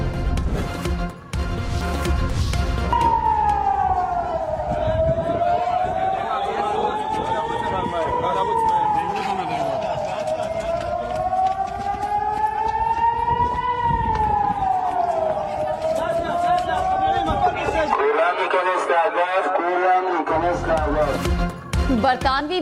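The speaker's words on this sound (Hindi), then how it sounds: "अचानक रॉकेट हमले का सायरन बज गया" An air raid siren warning of a rocket attack in Israel wails continuously, its pitch rising and falling in long slow sweeps, loud over a noisy background.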